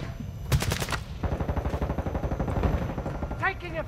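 Video game Modern Warfare 2 machine gun fire, a rapid rhythmic burst of shots lasting about three seconds, close and loud, with a voice shouting over it.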